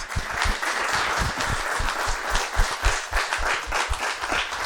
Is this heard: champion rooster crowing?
no